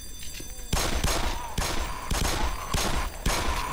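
Gunfire shooting zombies in Black Mesa: a quick series of loud, close, evenly spaced shots, about one every half second, each with a sharp crack and short decay, no talk.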